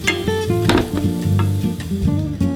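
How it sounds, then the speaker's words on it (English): Onions sautéing in avocado oil with cumin seeds and chili flakes give a steady, soft sizzle with stirring, partly buried under louder background music for the whole stretch. "then I go in with the onions and I saute that for a few minutes"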